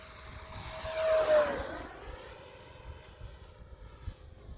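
A radio-controlled Horizon Hobby Viper Jet 1.1m model jet makes a low pass, its thin turbine-like whine rising as it approaches and then dropping in pitch as it races away into the distance.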